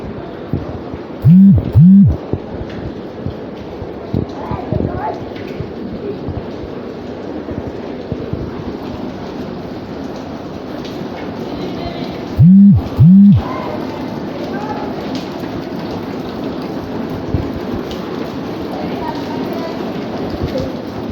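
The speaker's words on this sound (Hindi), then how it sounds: "आप देख सकते हैं कराची शहर में आज जो है बारिश शुरू हो गई है।" Heavy rain pours steadily across Karachi city streets in a dense, continuous hiss, broken twice by a pair of short, sharp tonal blasts.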